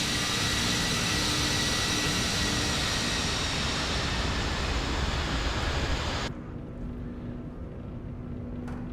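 L-1011 TriStar jet engines spooling at take-off thrust in MSFS 2024, a loud, dense roar that holds steady, then drops abruptly to a quieter, smoother rumble near the end.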